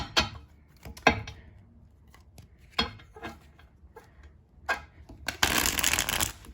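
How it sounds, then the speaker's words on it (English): A standard-size tarot deck with smooth cardstock is shuffled close by: scattered soft riffles and flicks, ending in a loud, rapid burst of a full riffle shuffle. "It's definitely easy to shuffle."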